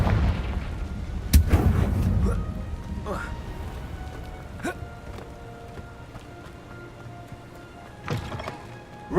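A Confringo blast curse goes off in Hogwarts Legacy on PC, a sharp booming burst trailing into rumbling crackle, then scattered fainter impacts and another louder hit near the end.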